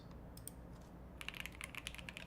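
Quick, light keystrokes on a computer keyboard, starting sparse and then turning into a faster, irregular burst of typing, close by and fairly quiet.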